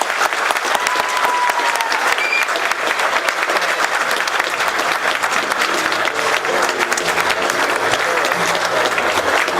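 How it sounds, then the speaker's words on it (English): Sustained applause fills the room at an appreciation dinner, a dense, steady wash of clapping hands from a large audience that holds evenly for nearly ten seconds, with a faint voice or two barely surfacing. "Give yourself a big round of applause."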